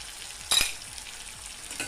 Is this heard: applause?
no